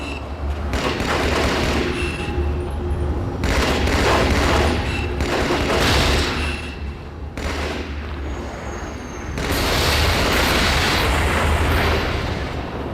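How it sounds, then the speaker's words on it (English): Battle rifle fire in Halo 2, striking destructible vehicles: dense, loud rapid gunfire bursts with heavy thuds and booms running nearly continuously, with brief gaps between volleys. "So watch as I go to work with the battle rifle"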